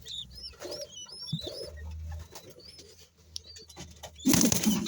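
Pigeons, including young chicks of red grizzle, blue bar and mealy colouring, coo softly in low repeated murmurs while small birds chirp and flutter nearby, ending in a burst of wing flapping.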